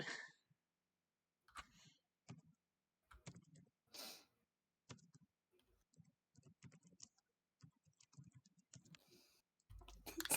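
Loud computer keyboard clicking during an online game voice chat, with rapid bursts of sharp key clicks in irregular clusters, nearby and prominent.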